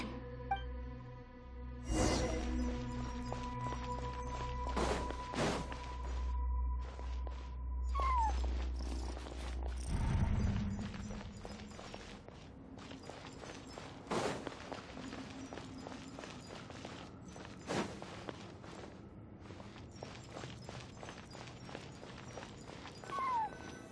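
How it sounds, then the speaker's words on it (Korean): A cat meows a few times in the video game Genshin Impact, short calls scattered over a busy background of low rumble, clicks and shuffling noises. "그렇게 난 고양이의 울음소리를 따라 빠져나왔어"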